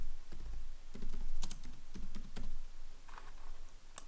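Computer keyboard keys clicking under steady typing into an Excel spreadsheet, an uneven run of quick close taps at moderate volume without any speech.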